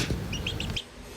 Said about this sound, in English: This is Maverick the chicken,